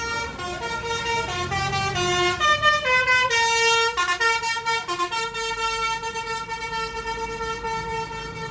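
A tour bus in Anyer blasts its telolet basuri musical horns, a loud, close run of shifting tonal notes played like a melody for several seconds over road rumble, no talking.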